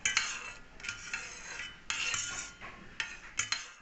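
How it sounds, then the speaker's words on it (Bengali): A utensil stirs and scrapes a milk mixture in a pan during homemade cheese making. Repeated soft scraping strokes come in short bursts with brief pauses between them, close and fairly quiet. "এইভাবে সমানেই কিন্তু নাড়তে থাকতে হবে"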